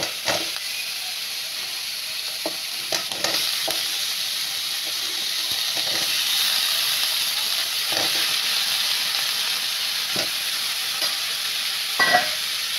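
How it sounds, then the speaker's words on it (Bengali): Potatoes and pumpkin sautéing in spice paste in a pan: a steady, fairly loud sizzle and hiss throughout, broken by occasional scrapes and stirring knocks of a spoon. "সুন্দর করে এবার আমি কষিয়ে নিচ্ছি। দেখুন ভালোভাবে আলুগুলো আমি কষিয়ে নিচ্ছি।"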